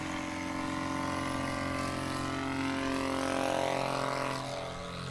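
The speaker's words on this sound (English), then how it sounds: "Here's John Young in the Aviat Aircraft Husky." Aviat Husky propeller airplane taking off in a STOL competition at Sun 'n Fun, its engine and propeller droning steadily and loud, swelling slightly as it passes, with no talk over it.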